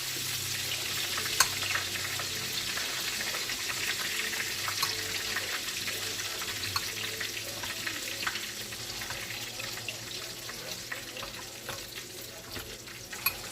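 Chicken fried steak sizzles and crackles in a frying pan, a steady close-up hiss of hot oil with scattered pops and spits, no voices.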